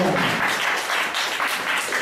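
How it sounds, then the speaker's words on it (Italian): Studio audience applauding on an Italian music show, a steady dense wash of clapping that fills the whole stretch at close range, with no voices over it. "Un applauso a"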